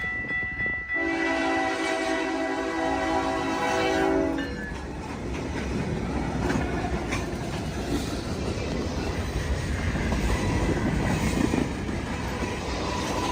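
A CN freight train led by locomotive 1603 sounds a loud multi-tone horn blast for a few seconds, then rumbles past with clattering wheels and rail noise continuing steadily at moderate distance.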